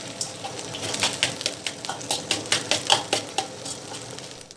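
A spoon stirring peanut rice in a pot scrapes and clinks in uneven strokes against the metal, close and fairly loud, with no one talking.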